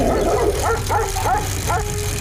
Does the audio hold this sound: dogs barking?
yes